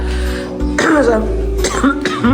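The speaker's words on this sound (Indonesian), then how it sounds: "Kondisi lagi gak fit nih, lagi batuk terus" A person who is unwell coughs three times in quick, harsh bursts, loud and close, with a throat-clearing quality and no talking.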